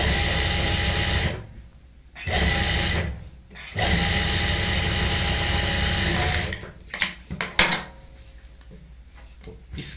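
Sewing machine running in three steady bursts while stitching a salwar, followed by clicks and light handling noise as the fabric is adjusted.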